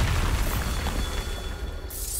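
Deep booming blast of the Bombarda spell in Hogwarts Legacy, a loud low explosion rumbling at the start and fading into a crackling tail with debris-like noise.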